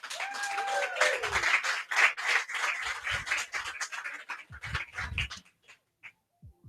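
An audience at an outdoor military mixer in North Park claps in a brisk round of applause, dense and steady at first, then thinning to a few scattered claps before fading out.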